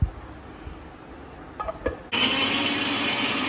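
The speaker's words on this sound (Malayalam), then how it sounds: "നന്നായിട്ട് മിക്സിയിൽ അരച്ചെടുക്കുക" A kitchen mixer grinder starts up and blends ginger with lemon juice and chilli powder, a few short knocks giving way to a loud, steady whirring drone that keeps running without talk.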